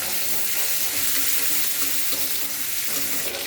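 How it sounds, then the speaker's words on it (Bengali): Small shrimp and cumin seeds fry in hot oil for a spinach dish, giving a loud, steady, close sizzle that runs unbroken from start to finish with no voices. "জিরে ফোড়ন, আর চিংড়ি মাছটা তো একটা তেলে দিয়ে এখন নাকি?"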